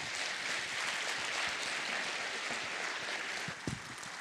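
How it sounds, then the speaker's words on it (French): Conference audience giving a welcoming round of applause to a guest joining the host on stage, a steady wash of clapping heard from a distance for about four seconds, with a single thump near the end. "Merci de lui faire un tonnerre d'applaudissements."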